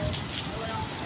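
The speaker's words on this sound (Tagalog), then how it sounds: "Ang lakas ng ulan." Steady, dense rain hissing across a surface, a continuous broadband wash with no pauses, fairly loud and close.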